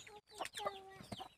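Chickens cluck in short, close bursts, several calls overlapping in a quick, irregular chatter with no talking.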